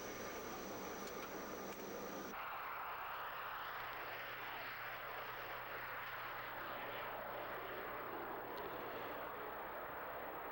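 Small jet aircraft with an ejection seat taking off, a steady loud engine roar and broadband rush that shifts in tone after a couple of seconds and continues without talk.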